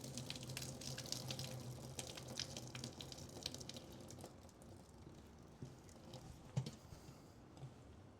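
Water pours out of a pot as it drains into a kitchen sink while cooking: a steady, fairly quiet rushing splash with small bumps and gurgles, and no talking.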